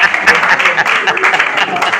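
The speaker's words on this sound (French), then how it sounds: "Applaudissez, applaudissez." Applause at a press event, a fairly loud patter of clapping mixed with crowd voices and cheering.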